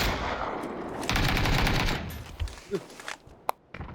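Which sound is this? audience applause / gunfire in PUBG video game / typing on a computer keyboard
gunfire in PUBG video game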